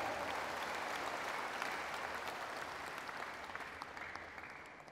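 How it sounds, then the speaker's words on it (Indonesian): A church congregation at an indoor revival meeting held in a tennis hall in Soe, Indonesia, breaks into sustained applause, a fairly distant wash of many hands clapping that slowly tapers off. "Tepuk tangan Soe bagi Indonesia."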